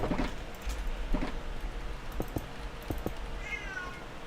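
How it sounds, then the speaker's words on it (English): A house cat meows a few times close by in a quiet room, short calls with small knocks and clicks between them. "Oh, hush, cat."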